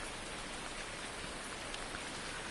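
Rain falls steadily in the Farming Simulator 19 video game, a dense, even hiss of drops on surfaces with no breaks or other sounds.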